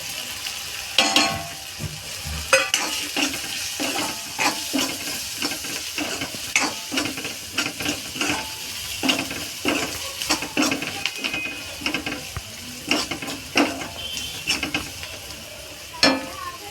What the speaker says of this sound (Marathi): दोन मिनटं जरा शिजायला ठेवलं आहे कांदा